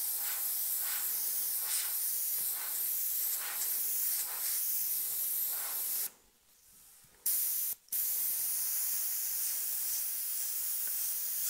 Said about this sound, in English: I'm aiming down while I'm spraying near the top